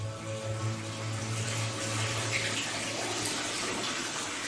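Water runs and splashes steadily in the sulfur baths of Tbilisi, Georgia, a continuous gushing flow like a filling bathtub, fairly loud and unbroken, with no voices over it.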